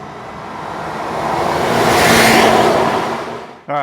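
A supercharged Toyota 4Runner driving while towing, its loud whooshing engine and road noise building and then fading over a few seconds, followed by a brief tonal whine at the end.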